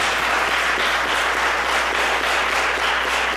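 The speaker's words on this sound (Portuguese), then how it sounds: "Queria pedir que você aplaudisse ao Senhor bem forte." Church congregation applauding loudly, a dense, continuous wash of clapping from many hands, steady and sustained throughout with no talking over it.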